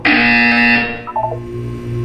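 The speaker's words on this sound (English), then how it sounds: "When you hear the buzzer, look up at the ceiling." A loud harsh electronic buzzer in the video game Portal 2 blares for about a second, then cuts off into a few quieter electronic tones.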